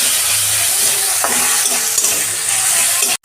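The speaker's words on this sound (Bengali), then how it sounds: "আদা রসুনের পেস্ট 1 চামচ দিচ্ছি, দিয়ে আমি এটা ভালো করে কষাবো" Ginger-garlic paste and tomato sauté loudly in a hot pan, a continuous close sizzle with a few spatula scrapes and clicks, ending in a sharp knock before cutting off.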